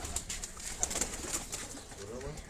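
Pigeons coo softly on a rooftop in Karachi, overlapping low calls with light wing flutters and faint background noise, with no one speaking.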